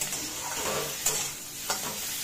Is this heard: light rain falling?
no